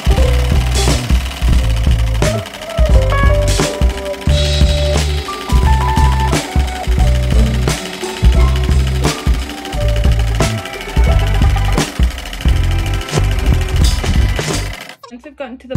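A sewing machine stitches a fabric tube, its motor whirring in loud, close runs with brief stops and restarts throughout, ending abruptly.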